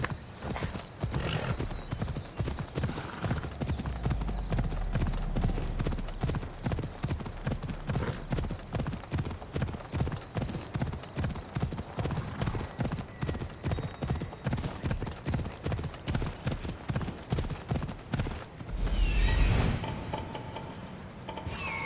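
Horse hooves clip-clopping in Assassin's Creed Odyssey, a steady, even trot of close hoofbeats that runs for the whole stretch, with a brief whinny-like flare near the end.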